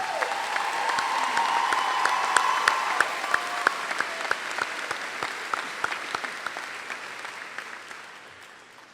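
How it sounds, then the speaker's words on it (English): Round of applause from the audience at Marion Harding High School's 2024 graduation ceremony, a dense wash of clapping with a few sharper nearby claps, loud at first and gradually thinning toward the end. "To the class of 2024, please give yourselves another well-deserved round of applause"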